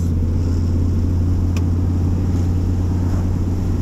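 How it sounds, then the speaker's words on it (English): Deep, steady engine drone from inside a moving Dodge Viper, a constant low rumble with road noise and no voices. "Let's give you some more of those engine sounds."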